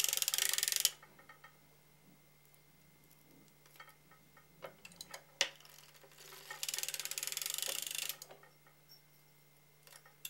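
Hand-cranked sock knitting machine running rounds of mock rib: close mechanical ratcheting and clicking with bursts of louder whirring, a faint steady hum underneath, and no talking.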